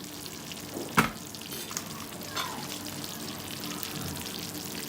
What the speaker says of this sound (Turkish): gördüğünüz gibi yemeğimiz hala kaynamaya devam ediyor